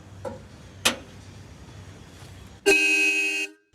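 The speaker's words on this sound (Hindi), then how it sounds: "रूट्स के 4 हॉर्न दे। एक बार बजा के दिखाना भाई इनको।" Four Roots horns on a modified off-road Ford 3600 tractor blast together in one loud, sustained chord of just under a second, after two earlier short clicks.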